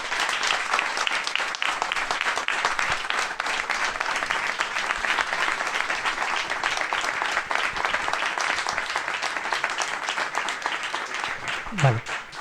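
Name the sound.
audience applause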